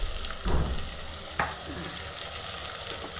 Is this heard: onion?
yes